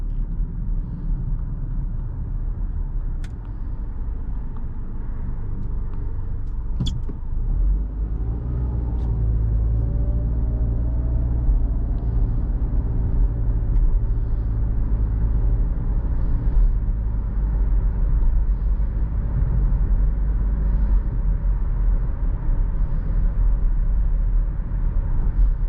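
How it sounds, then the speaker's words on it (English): A 2018 Nissan Rogue SL cruising on the road, heard from inside the cabin as a steady low rumble of tire and road noise, with a faint whoosh of a car passing partway through. "You do hear some road and tire noise and like the cars passing by."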